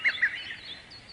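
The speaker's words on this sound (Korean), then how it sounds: "아름답게 지저귀는 새 소리가 들리게 되었습니다." Small birds chirp in a pair of quick, bright tweets followed by a faint higher trill, added as a gentle sound effect in a Korean audio Bible story of creation.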